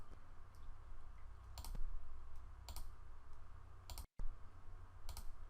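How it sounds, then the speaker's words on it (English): A computer mouse clicks four times at roughly one-second intervals while adding new worksheets in Microsoft Excel 2013, sharp and close over a quiet room hum. "You can of course add additional sheets by clicking the plus sign within the circle."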